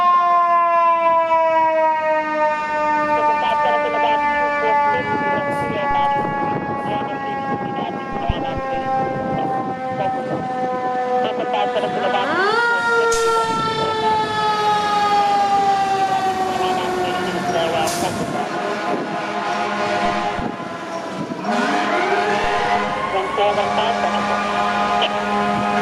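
FDNY Engine 216 fire engine sounding its airhorn along with a wailing, rising and falling Federal Q2A mechanical siren, loud and close throughout, with radio dispatch chatter underneath.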